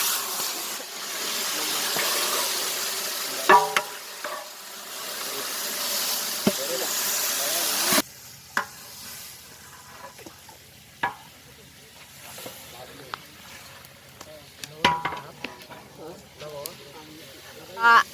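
Chicken pieces sizzle in a pan for a Chettinad-style ghee roast cooked in a village, a steady frying hiss broken by sharp clinks and scrapes of stirring, with some talk nearby.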